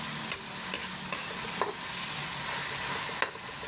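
Tomatoes fry in a pan for bagoong alamang with a steady, dense sizzle throughout, close by, broken by a few soft scraping stirs and light clicks.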